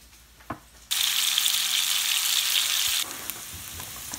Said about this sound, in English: what I'm doing now here, you're just frying it in oil